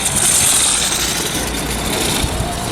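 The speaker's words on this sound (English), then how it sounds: "we're out here watching some karts come around the track" Vintage go-karts racing around a one-mile track at a vintage karting event, a steady high buzzing engine drone heard from a distance, continuous throughout with no talking over it.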